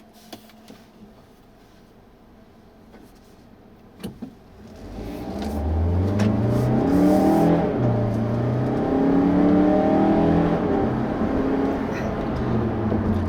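A 2016 Mazda CX-3 engine idles quietly, then revs up and accelerates, its rising drone growing loud and steady as gears climb.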